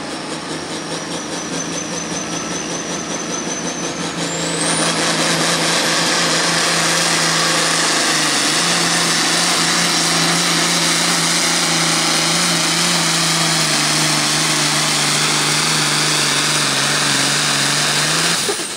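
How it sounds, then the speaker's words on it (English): The engine of a pulling tractor at a 9,000 lb pro farm tractor pull in Paris, Missouri, runs at a loud, sustained high pitch. After a brief rise in speed it holds steady on the governor at its RPM limit for the rest of the run. "Hear him on the governor at the RPM limit."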